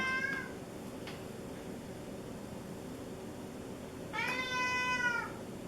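Two meows, a short one at the start and a longer drawn-out one near the end, close by over a steady background hiss.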